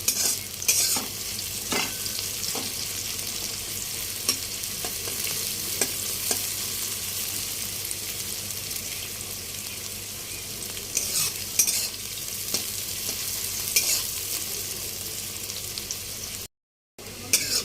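Onions frying and being stirred in a pan for a restaurant-style chicken gravy, with a steady broadband sizzle and repeated spoon scrapes. The sound is close and continuous, with no talk, and it drops out briefly near the end.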